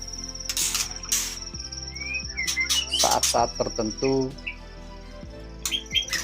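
A white-rumped shama (murai batu), a contest songbird, gives sharp chirps and short whistled calls in scattered bursts, close by and fairly loud, with someone speaking briefly partway through and a faint steady hum underneath.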